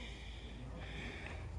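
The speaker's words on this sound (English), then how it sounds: "doing his thing, sniffing out landmines" A dog sniffs and snorts around an outdoor peace garden at a casual music jam, giving quick, faint nasal huffs under a steady wash of background noise.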